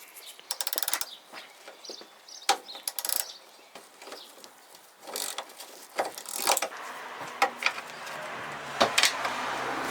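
A 7/16 socket wrench works on the tail light bolts of a Suzuki Escudo, making bursts of quick ratcheting clicks with pauses and small metallic knocks, close by.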